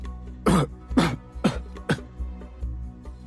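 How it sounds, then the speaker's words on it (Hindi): A series of four harsh coughs in uneven rhythm, close and loud, followed by softer rasping breaths over a low background hum. "फिर अपनी बात पूरी करने के पहले ही ओलाफ को खांसी आ गई"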